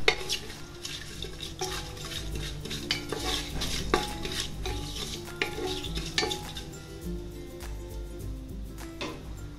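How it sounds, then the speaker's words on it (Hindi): Whole spices are stirred in lightly heated ghee for an Indian vegetarian thali: a spoon scrapes and clinks against the pan repeatedly over a soft, continuous sizzle, close and fairly loud. "हमने हल्के गरम घी में आवश्यक साबुत मसाले डाल दिए हैं। अब इन्हें अच्छी तरह से मिला लें।"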